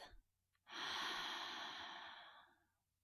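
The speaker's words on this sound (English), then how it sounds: "Breathe out through your mouth." A long, loud breath pushed out through the mouth during a yoga session, rising quickly and tapering off over about two seconds after a short quiet pause, heard alone and close.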